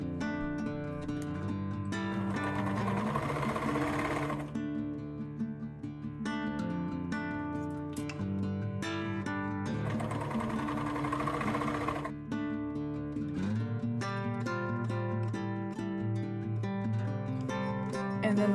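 A sewing machine hems the sleeves and bottom of a t-shirt, running close and steadily in long continuous bursts of rapid whirring stitches with brief pauses between runs, with no voices.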